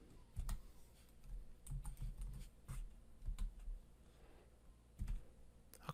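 Keys on a computer keyboard are typed in quick irregular bursts to enter a student ID of letters and numbers, close and clear against a quiet room.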